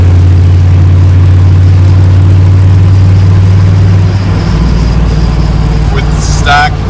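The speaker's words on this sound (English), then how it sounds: "exhaust with that 4-inch pipe sounds really good" A 6.5L diesel engine rumbles low and steady through a 4-inch exhaust pipe, loud and close. Its tone shifts partway through, and a faint rising whine comes near the end.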